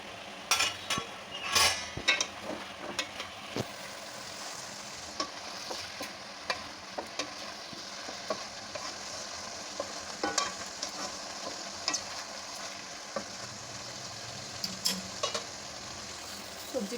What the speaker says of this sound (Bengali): একটু চাপা দিয়ে এটা ভালো করে আমি ভেজে নেব।